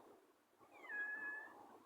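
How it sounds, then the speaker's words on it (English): Somewhere in the background a single cat lets out one faint, drawn-out meow that swells and fades, caught in a quiet room with no voices. "Can you hear cats in the background?"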